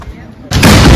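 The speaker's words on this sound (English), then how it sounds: "That cannon is going to fire in 4 minutes" A cannon fires from the White Tower in Zagreb: one sudden loud blast halfway through, breaking over faint street murmur and leaving a heavy, sustained roar that fills the rest of the moment.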